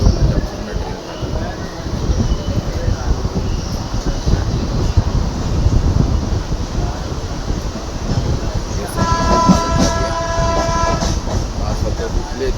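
A crowded local commuter train runs on rails, a loud continuous rumble and rattle from close inside, with a brief horn-like tone near the end.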